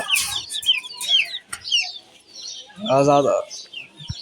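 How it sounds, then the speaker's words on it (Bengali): Baby chicks chirping and clucking up close in short high-pitched bursts, with a brief lower cackle from a hen partway through; no talking. "আমার এখানে আছে সেই আমার পছন্দের মুরগির বাচ্চাগুলা।"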